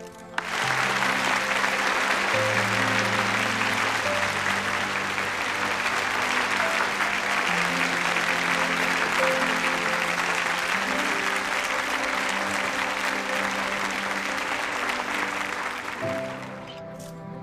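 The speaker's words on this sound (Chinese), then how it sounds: "好，接下来掌声有请我们渤海市市委书记曾雁来同" A large audience claps steadily and loudly for about sixteen seconds as a municipal party secretary takes the stage at a formal event, with music playing underneath before the clapping fades out.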